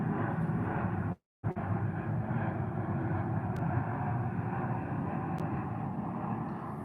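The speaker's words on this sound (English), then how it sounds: "Here comes another one. This sounds like a bigger jet." A jet airplane passes overhead as a steady, broad, low rumble that holds at an even level throughout, briefly cutting out near the start, with no voices.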